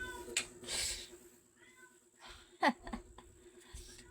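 A cat meows a few times close by, with one sharp, strained cry standing out, over faint background noise.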